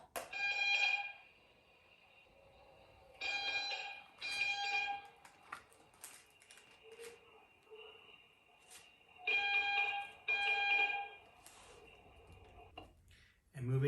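A harsh electronic alarm from an ACLS resuscitation training simulator sounds in short, buzzy bursts, mostly in pairs, separated by quiet gaps.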